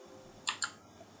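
Two quick, crisp keystrokes on a computer keyboard, the A, S, W and D keys used to steer an animated avatar, close and quiet over a faint background hum.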